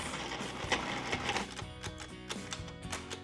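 Food processor pulsing spicy and regular tuna poke together, a few short rattling mechanical bursts close up with clattering blade noise, no talking.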